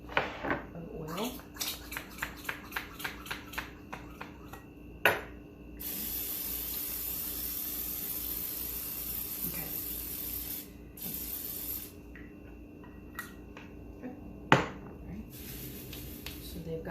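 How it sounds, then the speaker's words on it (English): Oil is spritzed onto roasted chickpeas: a rapid run of short pump-spray hisses, then a longer sustained hiss and a few scattered bursts, close and fairly quiet. "give them one more little spritz"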